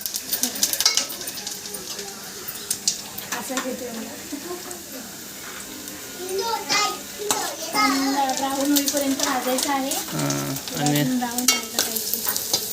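Onions fry and sizzle in a pan while being stirred for a village-style cashew seed curry, with steady frying hiss, scraping stirs and clinks of utensil on pot throughout, and voices talking over it.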